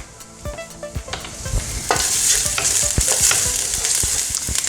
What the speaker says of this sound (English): Throw in some garlic here, and you can hear some sizzling going on.